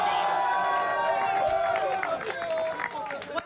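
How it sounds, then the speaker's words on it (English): A crowd at a Dota 2 International final applauds and cheers its champions, a loud, dense wash of clapping and shouting with a voice over the top, fading slightly near the end. "can we get one more round of applause for your TI champs?"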